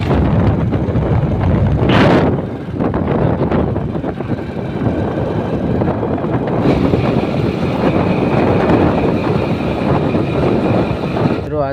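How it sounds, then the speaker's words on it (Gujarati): Strong wind roars and buffets the microphone steadily throughout, with a brief louder gust early on; no voices stand out. "બહુ મોટા પ્રમાણમાં પવન"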